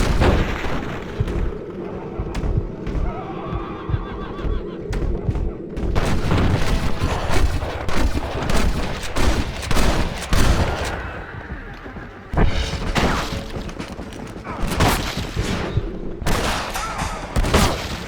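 A Red Dead Redemption shootout, with dense, loud bursts of gunfire and booming shots crackling in rapid volleys, pausing briefly before erupting again, with a voice speaking at times between the shots.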